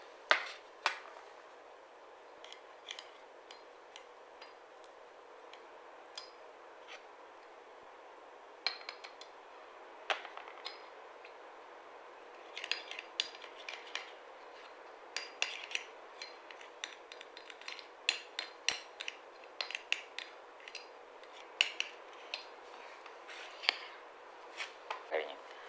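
A face pack being mixed with rose water in a bowl, with light, scattered clinks and scrapes of a utensil against the bowl, faint and irregular, under someone talking.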